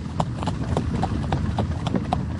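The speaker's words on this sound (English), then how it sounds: "I've never ridden behind a horse before." Horse hooves clip-clop steadily on a road as the animal pulls a carriage, a close, even rhythm of sharp knocks repeating throughout with no talk.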